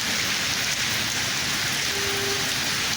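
Steady rain falls over the city of Oujda, Morocco, a dense even hiss of drops on surfaces that carries on without a break and with no voices.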